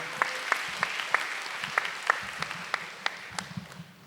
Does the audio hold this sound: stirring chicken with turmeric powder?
no